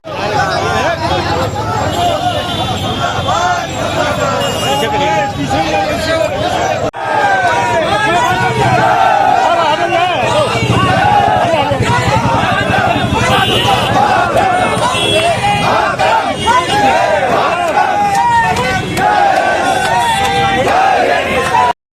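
Crowd noise from a protest demonstration at Town Hall in Gorakhpur forms a continuous dense babble of many voices, with shouts and calls rising above the din throughout.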